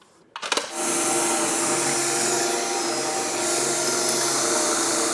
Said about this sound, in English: So with all of our holes drilled out,